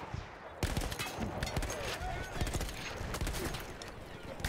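Battlefield 1 video game gunfire: rapid bursts of rifle and machine-gun shots crackling in dense, irregular volleys, loud and close, with a player talking over them.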